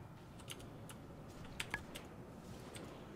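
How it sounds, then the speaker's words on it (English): Computer keyboard keys being hit during a World of Warcraft arena match: scattered quiet key clicks at an irregular pace, a couple of sharper taps in the middle, close and faint, with no talking. "you will hear me hitting the keys."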